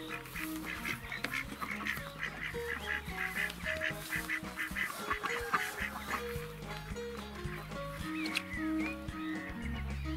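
Farmyard ducks quack and honk in a busy, continuous chorus at close range through the morning, calls overlapping with no one speaking.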